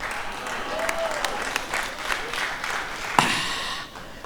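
An audience at a comedy show claps steadily throughout, a crowd of moderate volume with scattered louder claps and a sharp spike near the end.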